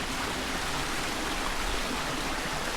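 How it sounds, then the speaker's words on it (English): A waterfall by a relaxing spot where fish can be watched pours with a constant, full rushing hiss. The sound is steady and fairly loud, with no voices. "That fantastic waterfall."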